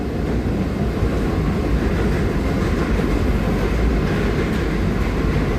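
MEDHA AC local train accelerating between Borivali and Virar: a loud, dense, continuous roar of motor and wheels that stays steady throughout, with no speech.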